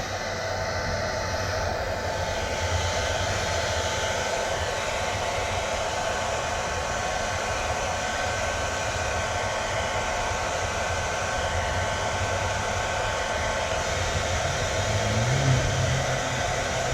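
A hair dryer blows continuously with a steady, even whoosh, running close and unbroken throughout, used while applying protective film to a BMW F10 535i headlight.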